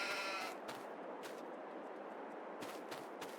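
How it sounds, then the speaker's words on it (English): Sheep bleat in Farming Simulator 22, a few faint, brief calls scattered over a soft, steady game background with no speech. "there we have all of the sheep in there"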